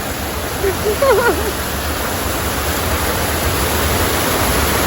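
A waterfall roars as a steady wash of splashing water, loud and close, with a brief voice rising over it early on.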